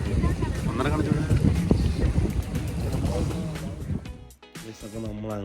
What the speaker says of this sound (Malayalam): സ്പീഡ് ബോട്ടിൽ നമ്മൾ മിന്നിച്ചടിച്ച് പോയിക്കൊണ്ടിരിക്കുകയാണ്.